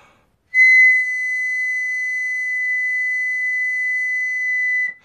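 Air blown through a reversed trumpet mouthpiece gives a clear, steady whistling tone. It starts abruptly, holds one pure pitch for about four seconds, then stops, with nothing else heard.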